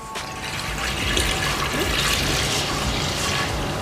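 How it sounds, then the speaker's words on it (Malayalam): Liquid pours steadily into a large pressure cooker as one litre of milk goes in for a sweet preparation, a continuous close splashing fill lasting several seconds with no talk. "പാൽ ഒഴിക്കുക. 1 ലിറ്റർ പാല്,"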